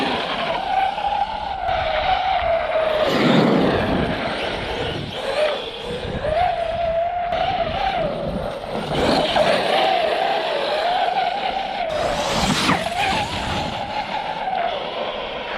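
An ARRMA Kraton XL RC truck on 12s Max4 power with Proline MX57 tires rips across dirt terrain, its high electric motor whine rising and falling continuously with brief skidding bursts, fairly close and loud throughout.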